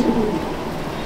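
A Mastan breed female pigeon in a loft at Chandannagar, Hooghly, giving a soft low coo, brief and close, over faint background hiss.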